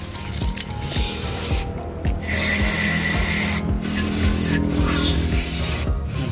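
Cleaner spray hisses steadily beneath the transmission solenoids of a Suzuki DA64W 4x4 automatic turbo wagon, the continuous close-up spray running with scrubbing and rubbing noise and brief pauses throughout, with no talk.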